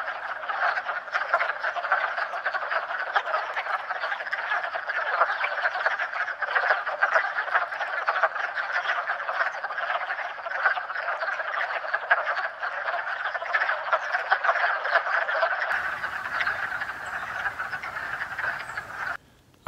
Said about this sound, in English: there are a ton of frogs behind me that we will be recording